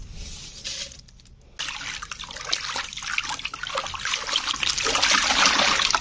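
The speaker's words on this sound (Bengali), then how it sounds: "তো এইভাবে পাতাগুলোকে তোমরা একটু ভালো করে ধুয়ে নেবে।" Neem leaves are swished and rinsed in water, giving a close, continuous trickling and splashing that grows busier and louder toward the end, with no voices.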